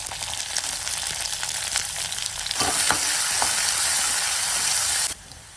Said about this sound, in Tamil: பூண்டு லைட்டாக வதங்கணும் எடுத்து வச்சிருக்க வெங்காயம் போட்டுக்கலாம்.